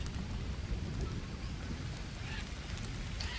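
Steady rain in the jungle survival video game Green Hell, a dense continuous hiss of falling drops with a low rumbling bed, heard without any talking.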